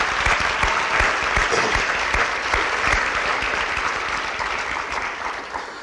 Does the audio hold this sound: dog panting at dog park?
no